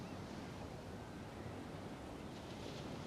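Ocean waves wash over a tidal shore in a soft, continuous hiss, steady and fairly faint with no voices.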